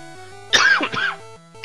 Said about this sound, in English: I have been storing up that cough for a long time